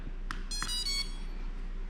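An MJX Bugs 7 drone beeps as it boots after power-on: a couple of short beeps followed by a longer tonal chirp, close and clear over a steady electrical hum, with no voices.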